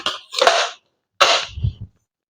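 An airsoft double barrel pistol fires two sharp, loud cracks about a second apart, each trailing a short rattle and then silence.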